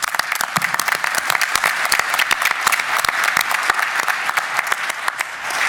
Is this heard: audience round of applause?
yes